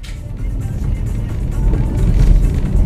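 Road rumble inside a moving car on a drive to Chobienice, a steady low-frequency engine and tire drone that grows slightly louder over a few seconds, close and constant.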